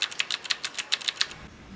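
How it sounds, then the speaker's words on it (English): Rapid typing on a Ducky Shine 2 mechanical keyboard with Cherry MX Blue switches, each keystroke a sharp, bright tactile click in a quick uneven rhythm, close and alone. "the blue switches are the loudest of all the Cherry MX switches due to that tactile click"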